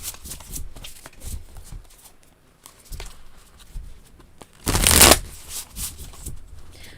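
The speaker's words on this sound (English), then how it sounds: "Maybe it's like the ASMR of the card shuffle." Tarot cards shuffled by hand in several bursts of soft riffling and patter, close and intimate, with one louder, fuller riffle near the end and quiet gaps in between.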